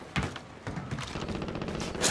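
Rapid gunfire in Call of Duty Modern Warfare, a close, steady string of sharp shots with a heavy opening blast and quick repeated reports running to the end.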